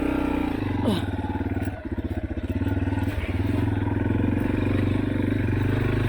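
A dirt motorcycle climbing a trail at Walker Valley, its engine droning steadily and dipping briefly as the rider works the clutch, then pulling hard again, close and continuous throughout.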